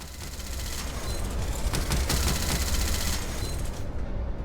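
Turrets fire a sustained rapid barrage in the Colony Ship video game, dense loud gunfire clattering continuously for several seconds with no voices.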